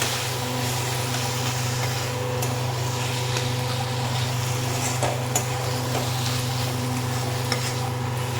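Fish head pieces stirred with spices in a pan for a fish-head and banana-flower curry, giving a steady close sizzle with scraping spoon strokes and occasional clinks against the pan, no talking.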